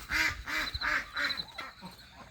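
Farm ducks quack in a quick run of four or five loud, evenly spaced calls, followed by a couple of softer trailing quacks, all close by.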